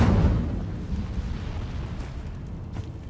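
An Incendio fire spell in Hogwarts Legacy bursts with a loud whooshing boom at the start, then fades into a lingering crackling rumble.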